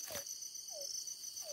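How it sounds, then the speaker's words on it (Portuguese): A frog calls near a well, three short falling croaks spaced about half a second apart, moderately close, over a steady high insect-like hiss with no talking. "Olha o sapo gritando."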